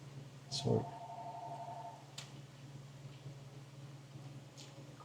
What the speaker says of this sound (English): there goes the telephone ringing